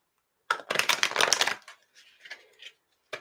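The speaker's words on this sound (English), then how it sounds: "I'm going to shuffle these cards." Tarot cards being shuffled by hand, a close, papery riffle of about a second followed by softer flicks and scattered taps, with no talking.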